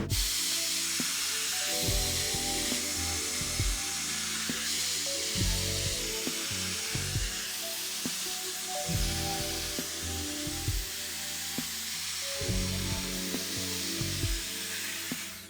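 A Dyson Airstrait hair styler on its lowest heat setting blows a steady loud rush of air, with rhythmic lower whooshing surges as it makes passes through hair, close and continuous with no talk.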